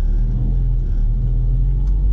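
An MK6 Ford Fiesta ST150 driving along, heard as a steady low engine and road rumble from inside the car, loud and continuous with no talking.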